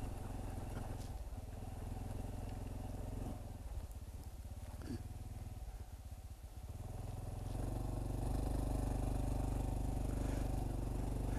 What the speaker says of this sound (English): The CT25 is a trail bike, so I'm riding on a trail.